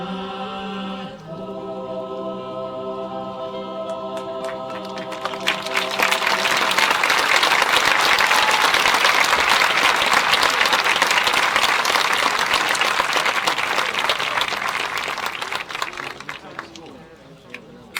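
Senior members of a concert choir finish singing at a 2018 commencement ceremony, and loud, sustained applause from the crowd erupts, holding for about ten seconds before tapering off.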